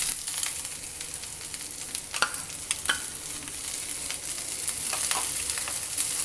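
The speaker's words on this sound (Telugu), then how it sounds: "వన్ కప్ ఆనియన్ వేసుకున్నాం కదండి, అది కొంచెం ఫ్రై అయింది" Onion and carrot sizzle steadily in a hot pan while being stirred for veg spring rolls. The frying hiss is constant, with a few scraping clicks of the spatula and no talk.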